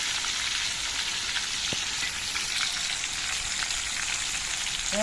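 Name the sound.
frying katla fish in a wok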